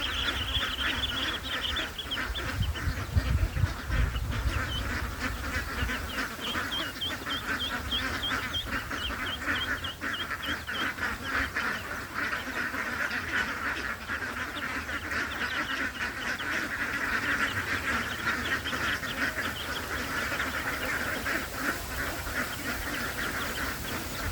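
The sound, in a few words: ducks during feeding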